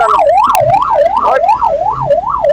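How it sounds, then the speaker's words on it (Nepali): Wailing ambulance siren on a Nepali road, rising and falling in a steady repeating cycle, loud and continuous, with faint traffic rumble underneath and no speech. "एम्बुलेन्स आएको छ पछाडि कसै छोड्दिन होला बाटो साइड छ"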